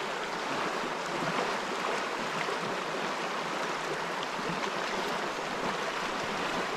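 Continuous rushing water of a flowing creek, a steady broad hiss without pauses, close by and fairly loud, with no voices.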